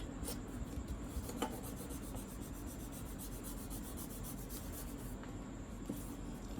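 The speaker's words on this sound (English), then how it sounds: "I'm taking a very little bit from this sandpaper and rubbing it." A drawing pencil lead rubs against a small piece of sandpaper in a faint, continuous, close scratchy grating with a slight rhythmic rasp and one or two brief taps, quiet throughout and without voices.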